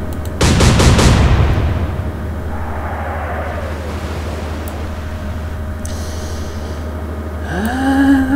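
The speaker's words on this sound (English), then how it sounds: "Right, Delight, open fire." Naval gunfire from a British destroyer in the Atlantic Fleet naval strategy game, a loud burst of several rapid cannon blasts followed by a long fading rumble, then a rising whistling sound near the end.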